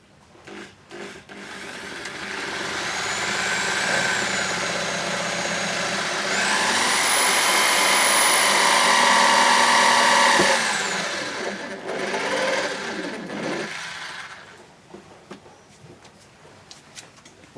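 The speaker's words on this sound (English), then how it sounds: "we're going to drill the last two holes" A power drill bores holes into a Toyota rear bumper to fit reverse parking sensors, a loud steady whine that runs for several seconds, rises in pitch mid-way, then winds down with short bursts near the end.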